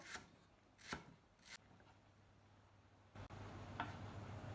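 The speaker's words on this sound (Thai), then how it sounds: "ซอยตะไคร้เจ้า ซอยฝอยเลยนะเจ้า" Fresh lemongrass is finely sliced with a knife on a board, giving three crisp, close cutting taps in the first second and a half, then a faint low hum and a couple of softer knocks.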